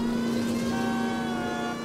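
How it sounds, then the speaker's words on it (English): Police car siren in L.A. Noire, the 1940s Los Angeles crime game: a steady wailing tone holding loud and close over a low engine rumble, without talk. "They hear the police siren, they see the police car coming right at them."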